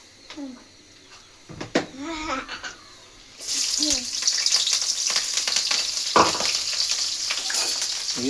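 Leftover cooked rice frying in soybean oil. After a few quiet seconds with some brief voice sounds, a loud, dense, steady sizzle starts and continues close by until the end.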